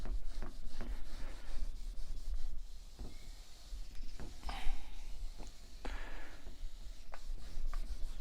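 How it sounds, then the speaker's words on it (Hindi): Writing on a board is rubbed out by hand before new writing, a steady scratchy scrubbing with short strokes and occasional taps, close and fairly loud with no talk. "यहाँ पे मैं अब थोड़ा पहले रब करूँगा ताकि मैं इसको पूरा लिखूँ यहाँ पे।"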